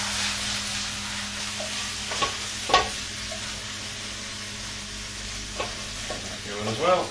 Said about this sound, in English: Again, we're flash frying it, it doesn't need to be cooked all the way through.